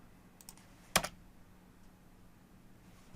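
A computer keyboard gives a brief cluster of keystrokes, a single sharp burst of clicks in an otherwise quiet room.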